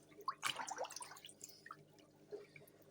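Aquarium filter rinsed by hand in tank water from a 100-litre hillstream or guppy tank, soft close sloshing and dripping that trails off into quiet trickles.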